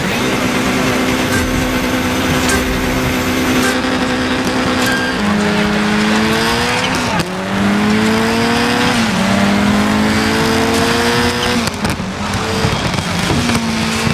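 Subaru Impreza S4 Rally engine in DiRT 5, a loud, close, buzzing engine note that climbs in pitch through gear changes, with short dips as it shifts and then revs back up, with no talk over it.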